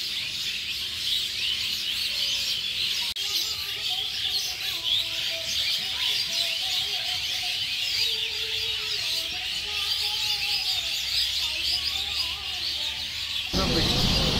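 A flock of sparrows chatters in a mango tree, a dense, continuous wash of high chirps and tweets that carries on steadily and fairly loud for the whole stretch.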